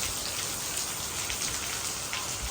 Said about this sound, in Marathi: काय चिकार पाऊस आला की घे म्हणून